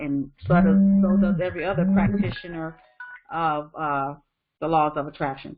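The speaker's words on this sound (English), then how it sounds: "So, sorry, that was my phone." A mobile phone rings with two steady electronic tones beneath a man's ongoing speech, which continues alone afterward.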